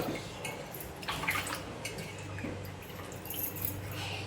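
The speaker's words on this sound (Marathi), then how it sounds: "कारली असंच आपण पाण्यामध्ये स्वच्छ धुवून घेऊयात" Bitter gourds being rinsed in a bowl of water, with soft splashing, dripping and light clinks of a vessel, steady and close for several seconds.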